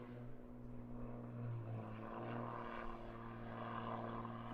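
Propeller aerobatic plane at a British aerobatics championship flying a roll and flick manoeuvre, its engine droning steadily at moderate distance with shifting pitch as it pulls through the figure, no talk.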